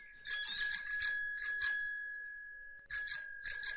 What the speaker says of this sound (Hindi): घंटी की आवाज सुनते ही